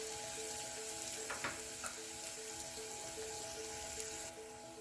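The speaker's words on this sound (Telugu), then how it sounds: "ఇది పచ్చివాసన పోయేంత వరకు వేయించి దీంట్లో మిగతా మసాలా యాడ్ చేద్దాం" Masala frying for a mutton and fenugreek leaf curry, with a steady close sizzle throughout and a few stirring scrapes, no talk.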